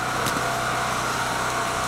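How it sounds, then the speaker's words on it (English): A large screw pile drill used for installing piles runs with a continuous, steady mechanical drone. It is loud and close, with no break in the sound. "This is one of our big, the biggest screw drill we have to install."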